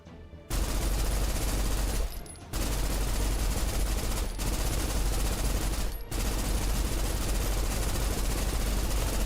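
Sustained turret machine-gun fire in a video game, a dense, loud, continuous roar of rapid shots broken by three brief pauses.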